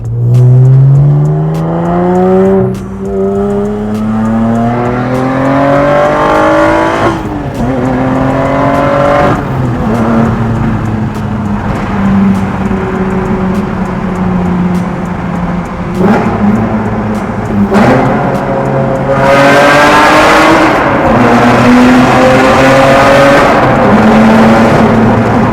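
A supercharged Lotus Evora engine revs and accelerates hard, its loud rising pitch sweeping up through repeated gear changes with brief dips between pulls, close and continuous with no talk.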